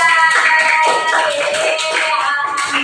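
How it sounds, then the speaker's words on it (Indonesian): Classroom applause for a student group, a dense burst of many hands clapping close by that continues steadily for a few seconds without talk. "beri tepuk tangan untuk kelompok visual"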